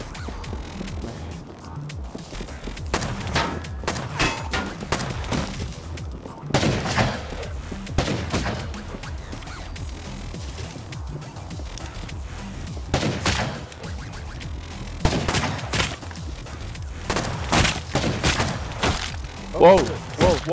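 Gunfire in the video game Rust comes as repeated sharp shots and bursts scattered through the stretch, some heavy thuds among them, while a player talks excitedly over the action.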